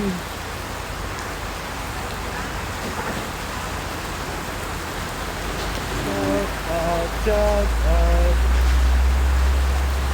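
Steady heavy rain hisses over a surface in Manila, with low rumbling toward the end and a faint voice briefly underneath.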